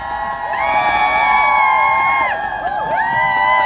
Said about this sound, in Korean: 대표님을 박수로 모시겠습니다